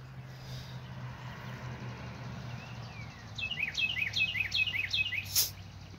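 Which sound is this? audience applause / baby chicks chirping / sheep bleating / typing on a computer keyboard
baby chicks chirping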